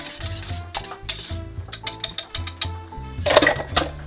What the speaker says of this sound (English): Give that a quick whisk.